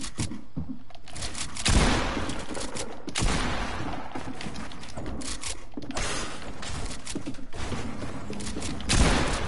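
Rapid bursts of gunfire in a Fortnite match, close and loud, with several sharp volleys and heavier thumps spread across the stretch.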